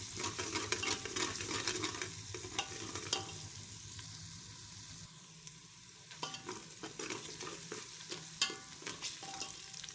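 Garlic and ginger paste fries in a pan, a soft, continuous sizzle broken by scraping stirs and small pops, fairly faint and without voices.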